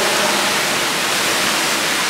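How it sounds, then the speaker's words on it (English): Loud, broadband rushing water fills an underground tunnel, a continuous roar with no pauses and no voices over it. "There's so much fucking water."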